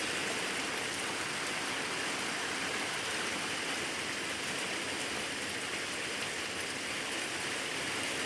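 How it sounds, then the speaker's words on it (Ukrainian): Steady autumn rain falls continuously, a dense, even patter close by with no voices, dripping into a greenhouse. "все одно капає, достає дощ туди."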